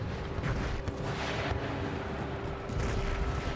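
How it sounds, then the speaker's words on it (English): Howitzer artillery fire in Empire Total War, a dense rumbling battle din of low booms and blasts rolling continuously, loud and close with no talk. "when you fire howitzers in quick climb shell mode"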